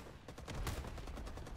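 Rapid bursts of gunfire from the Vietnam War shooter game Rising Storm 2: Vietnam crackle in a quick, evenly spaced string of sharp shots at moderate volume, with no voices.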